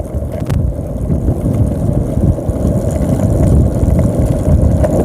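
The motor of a remote-controlled bicycle is throttled up, giving a loud, continuous, rough low drone with wind buffeting over it and no talking.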